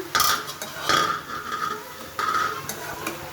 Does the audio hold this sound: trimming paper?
no